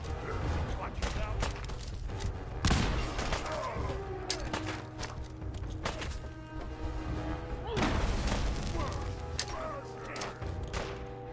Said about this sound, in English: Big grenades.